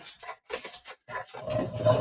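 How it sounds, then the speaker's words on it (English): Short, breathy whimpers from a nearby dog come in bursts, turning into steady rapid panting toward the end. "This damn dog."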